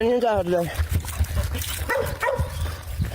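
Several big pit bull dogs kept in a pen bark and whine together, opening with a rising whimpering howl followed by deep, overlapping barks that are loud and close.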